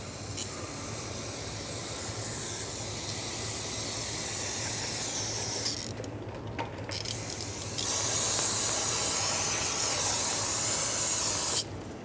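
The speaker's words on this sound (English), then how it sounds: "I'm going to clean everything with brake parts cleaner" Brake parts cleaner hisses steadily from an aerosol can onto the rear brake hose fittings of a 2006-2011 Honda Civic, one long close spray that pauses briefly and then returns louder, with no talking.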